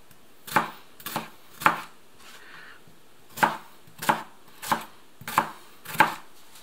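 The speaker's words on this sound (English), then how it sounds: "I will chop it fine," A knife chops mushrooms on a cutting board in sharp, separate strokes, first three quick ones, then a pause before five more spaced evenly, close and clear.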